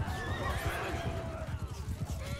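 Horses neigh and whinny in a Mount & Blade II: Bannerlord cavalry battle, loud drawn-out cries over clip-clopping hooves and a dense, busy battlefield din.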